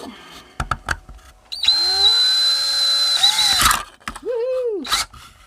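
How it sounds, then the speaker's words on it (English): A power drill whines steadily for a couple of seconds, boring a hole for a Wyze Cam outdoor mount, with short clicks and bumps before it starts and a rising and falling motor whir afterward. "Okay, initial hole is drilled."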